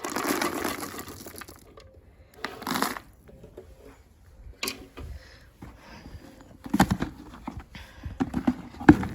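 Horse hooves clip-clop on the ground as a horse follows someone around its shelter, faint irregular bursts of steps separated by short quiet gaps.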